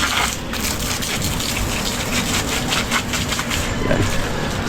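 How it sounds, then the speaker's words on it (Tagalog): Steady gushing spray of water over garden plants, a continuous dense hiss close by with no pauses. "Kaya kailangan natin diligan."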